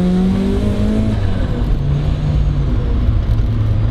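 A supercharged Mazda Miata engine roars on a race track, loud and close, with a sustained harmonic whine that climbs and then drops as the revs change, no voices.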